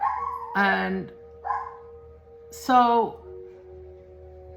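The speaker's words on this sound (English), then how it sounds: "I'm sorry about the dogs." Dogs inside a house whining and yelping in drawn-out, howl-like cries, three loud bursts close by, with a person speaking briefly between them.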